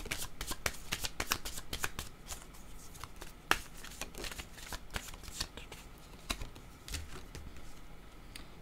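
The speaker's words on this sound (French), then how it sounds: "Je vais demander maintenant une carte de mon oracle de l'âme intuitive" Oracle cards are shuffled by hand close up, a quiet, steady run of soft riffling flicks and papery slaps with occasional sharper snaps, and no talking.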